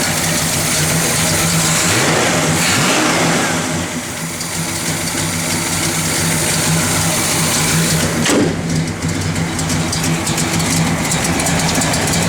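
A 1967 Pontiac GTO V8 with a mild cam, idling loud and close with a lumpy rumble, then revved several times before settling back, no talking.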